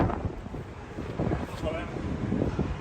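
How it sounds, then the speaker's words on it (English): Strong wind from a dust storm in Las Vegas roars across an outdoor microphone in a continuous, gusting low rumble, with faint voices underneath. "It's so windy."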